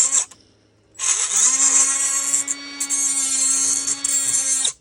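Power tool grinding and deburring a plastic edge while rounding it over: a short start, then a sustained high whine that holds steady for several seconds, close and loud, with no talking.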